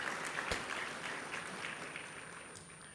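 Applause from an audience at the launch of a national financial inclusion report, a steady, moderately distant wash of clapping with a few sharper claps standing out, no voices over it.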